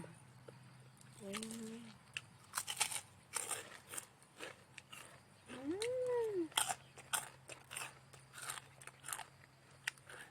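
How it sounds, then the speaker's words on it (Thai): Crunchy pork rinds are bitten and chewed close up, making sharp repeated crackling crunches between quieter moments, with faint talk in the background. "ได้ยินเสียงแคบหมู"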